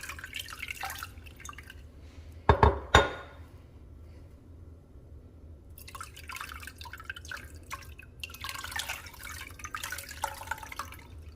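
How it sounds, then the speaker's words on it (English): Cold water poured over freshly made homemade butter to rinse it in a kitchen, a brief loud splash followed by a quieter, steady trickle of running water that swells again toward the end. "pour the cold water over it to make sure the water runs"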